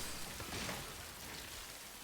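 Constant rain hiss with soft patter on surfaces in Death Stranding, steady and moderately quiet throughout.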